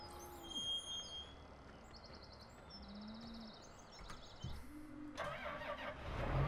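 A farm vehicle engine in Farming Simulator 17 turns over and fires up, a low mechanical rumble with rising revs near the end, amid outdoor ambience with faint bird chirps.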